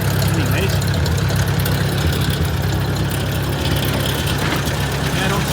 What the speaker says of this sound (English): Sounds like a valve tap, and it's probably out of spec.